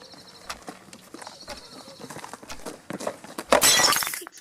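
Clattering footsteps and knocks build to a sudden loud crash and shatter of a heavy clock breaking, the bright smash ringing out near the end.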